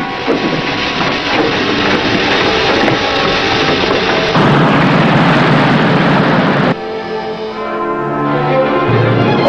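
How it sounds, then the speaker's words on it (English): A submarine's main ballast tanks are blown dry, a loud roaring rush over steady machinery noise that surges into a harsher blast midway and then drops back, with no voices heard. "main ballast tanks are being blown dry"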